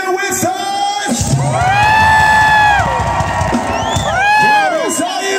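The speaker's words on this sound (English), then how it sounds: "we are so thankful that you are singing and screaming with us" A concert crowd in Žalgirio Arena in Kaunas, Lithuania, at a 2023 show, cheering, whooping and screaming loudly and continuously, with high shrill voices rising and falling over a dense roar.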